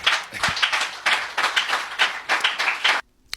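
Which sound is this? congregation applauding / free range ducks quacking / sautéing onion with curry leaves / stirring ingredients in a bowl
congregation applauding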